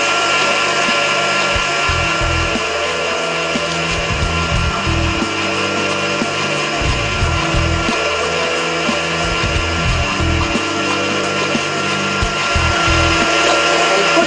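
A Kitchen Aid blender runs steadily at speed 4, churning tomatoes, garlic and chilli, giving a loud, continuous grinding whir with slight uneven pulsing throughout.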